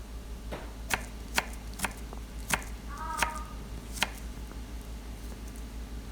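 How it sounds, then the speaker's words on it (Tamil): Knife chopping raw plantain into small pieces on a board, a series of sharp, separate cuts at an irregular pace, close and fairly quiet, with no talking. "ரவுண்டாக கட் பண்ணிவிட்டு இந்த மாதிரி நீங்கள் சின்ன சின்ன பீசஸாக கட் பண்ணி எடுத்துக்குங்க"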